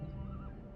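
Cavalry horses in the Rome Total War video game whinny and neigh over a steady background of hooves and battle noise, a short close burst with no talk.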